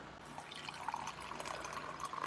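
Water is poured onto a spoonful of coffee drink mix, a quiet, continuous trickling and splashing heard fairly close, no one talking.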